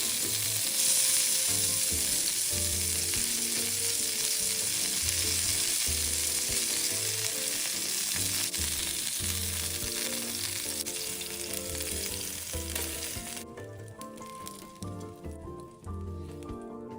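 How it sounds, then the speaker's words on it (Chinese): Pork-filled flaky pastry patties sizzle in a pan over medium heat as they crisp to golden, a steady close crackling hiss with occasional spatters that fades toward the end, no voices. "转中火把肉饼两面煎至金黄酥脆"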